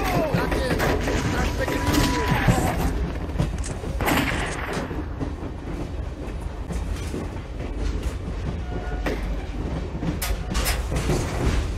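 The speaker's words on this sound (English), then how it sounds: "In about 10 minutes, the train will pass over Dead Man's Gorge." In the Total Overdose video game, a train rumbles along the railway with steady clattering wheel noise, mixed with scattered gunfire bursts and explosions throughout.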